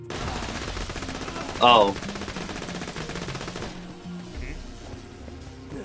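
Rapid gunfire from a gun in Borderlands 2 during the Headhunter DLC, a dense automatic burst with one louder crack near the middle, a short exclamation from a player, then quieter game ambience.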